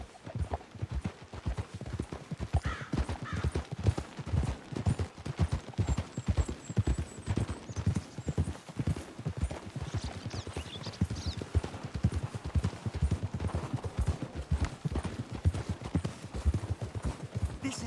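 Horses trot in Red Dead Redemption 2 with steady, rapid hoof clip-clops that carry on throughout, with occasional faint background sounds.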